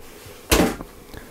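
A large kitchen cupboard door in a Carado T334 camper van opens or shuts with a single short, close knock and rattle, followed by quiet room sound.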